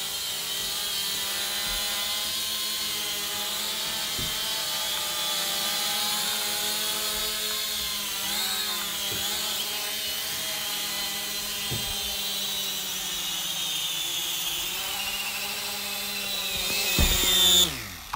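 A small drone hovers and descends to land, its rotors giving a steady high-pitched buzz with a harmonic whine that shifts in pitch before a louder burst as it touches down.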